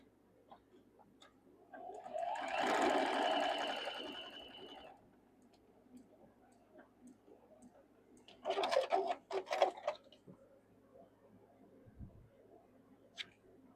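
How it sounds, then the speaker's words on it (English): A sewing machine stitches quilt block pieces together in two short bursts, a longer whirring run followed by a choppier stitching burst, fairly close in a quiet room. "We're going to sew these two right here together."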